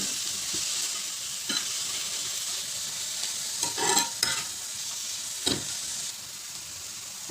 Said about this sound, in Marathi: हे छान परतून घेऊ